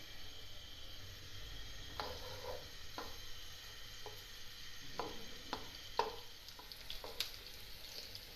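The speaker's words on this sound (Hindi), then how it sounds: "ये छोटी सी प्याज, अब इसको हल्का सा फ्राई करेंगे।" A small onion lightly frying in a pan for a chicken spaghetti dish, a soft steady sizzle with occasional sharp stirring clicks of a utensil against the pan.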